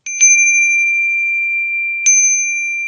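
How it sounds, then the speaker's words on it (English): A bell from Bali, used for clearing negative energy, is struck twice about two seconds apart, each strike leaving a long pure sustained ring that lingers clearly and close in an otherwise quiet room. "Look at this bell I got."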